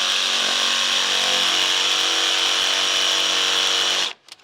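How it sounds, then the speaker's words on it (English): Jigsaw finishing a cut, a loud buzzing motor with a rapid reciprocating blade whine held steady for about four seconds, then abruptly stopping with a brief clunk. "you can take your jigsaw like this. And easily finish the cut"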